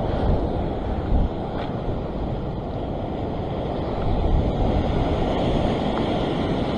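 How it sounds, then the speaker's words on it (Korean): Ocean waves surge and wash near a fishing boat at sea, a continuous broad roar with wind buffeting the microphone and slight swells in loudness, no speech. "자, 파도."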